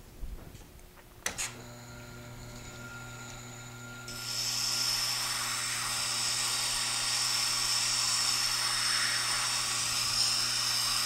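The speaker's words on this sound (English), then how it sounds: "I'm going to apply the fine side of my stone grater to the waterstone" A fine-side stone grader rubbed on the waterstone of a Tormek T-7 wet grinding sharpener, giving a steady, close abrasive hiss over the machine's constant hum, with a few soft knocks at the start.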